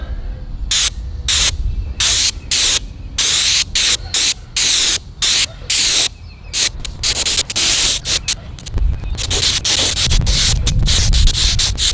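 Aerosol spray paint can hissing from its nozzle in a run of short bursts, then a longer steady spray toward the end, close and loud with no talking.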